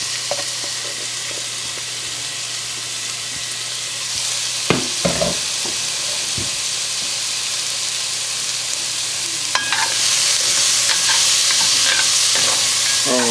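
Onions and peppers sizzle in a pot for Cajun jambalaya cooked camp style, with an ice cube added: a steady bright frying hiss with scattered stirring clacks, and the sizzle grows louder partway through.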